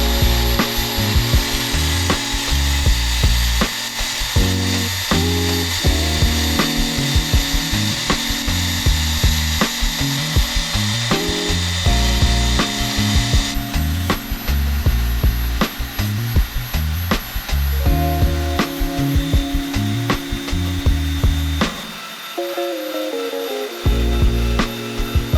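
Power tool cutting the blade shape of a twist pattern Damascus steel kitchen knife from stock, a continuous rough grinding and buzzing with repeated strokes and brief pauses, loud and close throughout with no talking.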